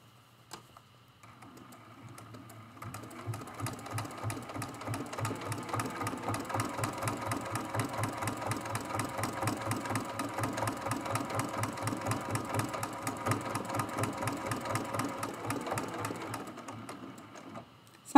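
Close up, a sewing machine stitches a quilt with red thread, revving up from quiet into a steady rapid needle rhythm that holds for about fifteen seconds before easing off.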